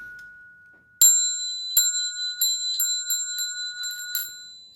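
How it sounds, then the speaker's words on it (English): A yin qing bowl bell is struck once and rings with a long, bright, sustained resonance that hangs on and on, with a few lighter taps and small rattles along the way. "we have a beautiful yin qing here with a nice resonant sound that I'm going to ring."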